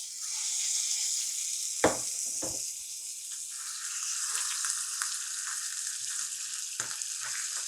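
Minced meat sizzles in a hot oiled pan for stuffed zucchini filling, a steady bright frying hiss with a few sharp scrapes and pressing sounds from a utensil, no talking.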